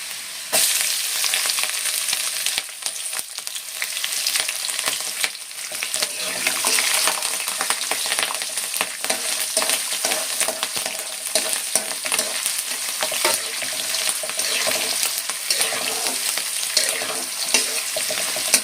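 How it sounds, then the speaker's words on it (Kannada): Steady loud sizzling of carrot chitranna frying in a pan with green chilies added, with stirring scrapes throughout and no talk. "ಇವಾಗ ಇದು ಫ್ರೈ ಆಯಿತು ಇವಾಗ ನಾನು ಇದಕ್ಕೆ ಹಸಿಮೆಣ್ಸಿನ್ಕಾಯಿ ಹಾಕ್ಕೊಳ್ತೀನಿ"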